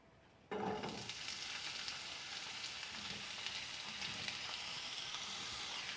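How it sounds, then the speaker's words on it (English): Onions sizzle and crackle steadily in hot oil in a pan, frying for a mushroom curry; the bright hiss starts abruptly and holds loud and continuous, with no talking. "we have to fry the onions until they turn light brown in color"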